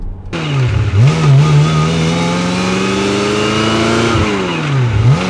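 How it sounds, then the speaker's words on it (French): A Ferrari 355 Berlinetta engine revs loudly and close, its pitch climbing and dipping during gear changes through the aluminium gated shifter. "le tintement de la fameuse grille Ferrari"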